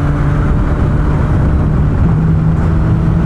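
A 300-horsepower turbocharged Hayabusa motorcycle accelerates hard, its engine a loud, steady roar that climbs in pitch as it winds out, heard close and continuous without a break.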